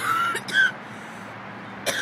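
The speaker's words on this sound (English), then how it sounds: "Excuse me, I have a little cough." A short cough followed moments later by another brief cough, close and clear against a quiet background.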